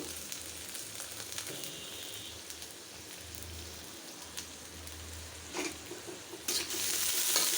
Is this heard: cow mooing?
no